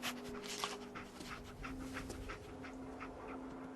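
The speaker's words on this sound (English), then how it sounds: "Dog meat. Get the scent," A dog pants quickly and softly in the Fallout 4 video game, a rhythmic run of short breathy huffs with a faint whimpering tone, close but quiet against a low ambient hum.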